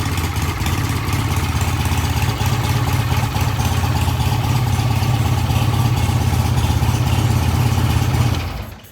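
A vintage British motorcycle engine runs steadily at idle, close and loud with a throbbing low rumble, then cuts off abruptly at the end.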